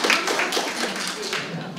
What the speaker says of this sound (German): Schönen Applaus.